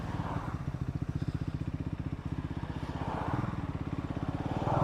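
A Triumph Scrambler 400X motorcycle engine pulses steadily at close range after a downshift to fourth gear, its low rumble rising toward the end as the revs climb.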